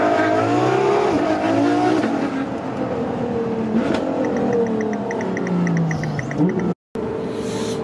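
A camouflaged Ferrari LaFerrari hypercar roars loudly up through its revs and then drops back, heard close from inside the car with the window barely open, its engine note rising and falling over several seconds before a brief cut.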